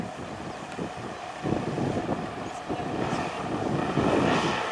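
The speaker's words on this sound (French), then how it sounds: "Alors on essaie le moteur." A small model airplane engine buzzes steadily, growing louder toward the end, with wind rumbling against the microphone.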